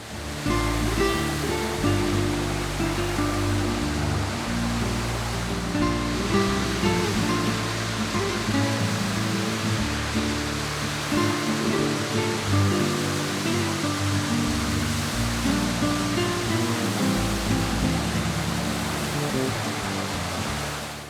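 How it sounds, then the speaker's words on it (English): Loud, steady churn of water flowing over a cypress water wheel at an old gristmill, with a low rumbling mechanical undertone, continuous throughout, close by. "powering a cypress water wheel that turns the millstones up above"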